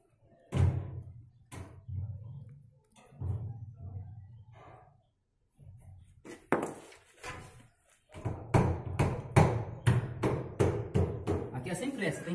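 An iron door is struck repeatedly to seat it in its frame, with sharp metallic bangs that come sparsely at first and then in a rapid, regular run, close by, with people talking in between.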